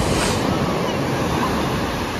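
Sea waves wash steadily onto the beach at Vila Velha as a continuous loud surf roar, with wind noise buffeting the microphone.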